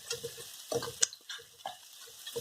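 Hawaiian bar-style fried rice frying at high heat in a pan, with intermittent scraping stirs and soft sizzling bursts, close and fairly quiet, no voices.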